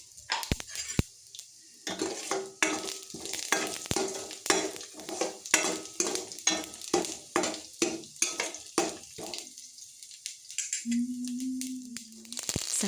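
Mustard seeds and cumin fry in hot oil for an okra palya curry, with a close, steady run of rhythmic sizzling pops and spits lasting about ten seconds before fading.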